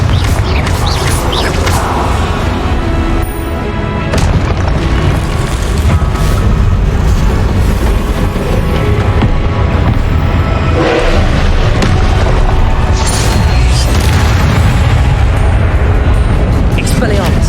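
Confringo fire spells cast again and again in Hogwarts Legacy combat set off loud, heavy booms and bursts within a dense, continuous wash of game sound, with a voice talking over parts of it.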